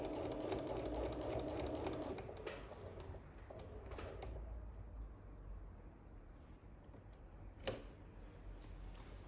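Sewing machine stitching a quilt, a soft, steady mechanical whir with faint ticking that eases off partway through, quiet and close with no talking.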